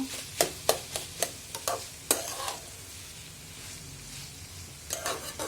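Green beans stir-fried with coriander leaves are scraped and stirred around a pan, giving sharp spatula clacks in uneven bursts over a soft, steady sizzle, close and fairly quiet, with no talk.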